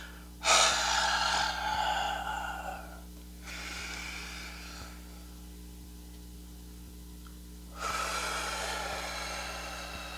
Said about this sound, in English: When I force that air out, the first exhale first and push all that air out